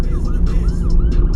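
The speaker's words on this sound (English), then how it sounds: "No, that's a real ambulance." A real ambulance siren sweeps past outside, its wavering wail rising and falling over a loud, steady rumble of road and vehicle noise.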